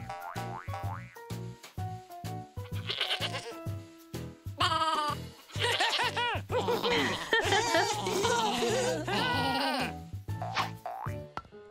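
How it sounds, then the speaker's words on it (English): Goat bleating repeatedly in a bright children's show, wavering cries mixed with cartoonish boings and music, the bleats coming in quick bursts over about twelve seconds. "Goat."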